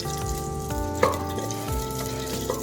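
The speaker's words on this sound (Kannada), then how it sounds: "ಎಣ್ಣೆ ಕಾಯಿದ ನಂತರ ಒಂದು ಅರ್ಧ ಈರುಳ್ಳಿನ ಒಗ್ಗರಣೆಗೆ ಹಾಕೊಂಬಿಡಿ" Half an onion, cut lengthwise, frying in hot oil for a Karnataka-style tempering, a steady crackling sizzle with a sharp spatter near the middle and a faint clink later, no voices.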